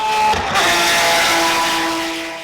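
A restored Porsche 996 GT3 RS race car engine roars loudly at close range, a sustained high-pitched wail that holds steady then slowly fades as the car pulls away.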